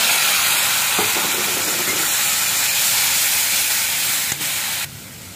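Taro leaves sizzle and hiss steadily in a hot pan with shrimp, a loud, even frying crackle that holds for several seconds and drops off sharply near the end.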